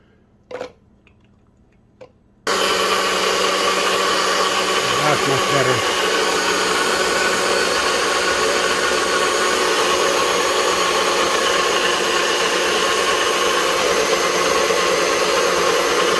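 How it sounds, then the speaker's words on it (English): Blender grinding peeled garlic cloves for a homemade aphid pesticide, a loud steady motor roar that kicks in after a few seconds of quiet handling noise and runs on unbroken, close up. "The next step is gonna be to grind them. I'm gonna put them inside the blender."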